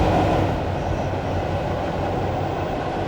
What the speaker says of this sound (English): you can barely hear the motor sound over the sounds of the wheels going over the rails.